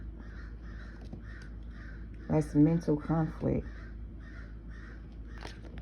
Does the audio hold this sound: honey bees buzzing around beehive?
no